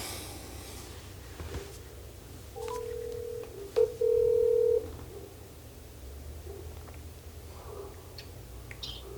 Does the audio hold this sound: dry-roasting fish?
no